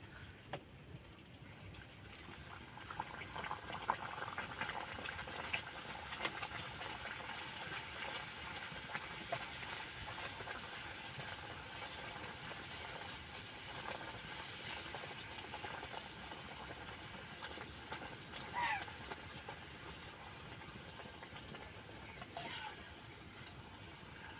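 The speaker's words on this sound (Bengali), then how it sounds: "বন্ধুরা আমি কিন্তু এইভাবে সব পুরিগুলো ভেজে নেব" Stuffed aloo puri frying in hot oil, a steady dense sizzle and crackle running throughout with faint scattered pops, no talking over it.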